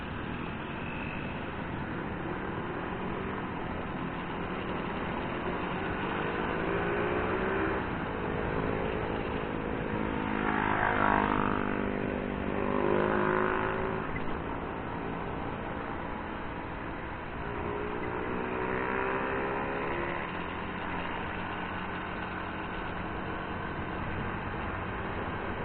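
Street traffic of cars and motorcycles on a busy Davao City road, a continuous loud wash of engine noise with several passing engines swelling and fading, heard alone.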